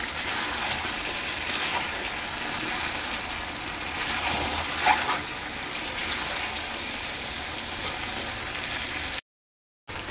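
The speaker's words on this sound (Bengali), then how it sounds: "এবার দিয়ে দিচ্ছি মশলা ধোয়া জলটা, আর দেবো পরিমাণ অনুযায়ী জল।" Water and spice-rinse water are poured into a pot of duck meat curry with fried potatoes, making a steady splashing, bubbling sizzle at moderate volume throughout, with a short silent gap near the end.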